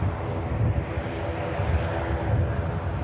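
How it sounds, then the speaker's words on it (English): A Ryanair airliner arriving from Dublin at Manchester Airport makes a steady, moderately loud broadband roar that holds evenly throughout, with no voices. "Ryanair coming in from Dublin"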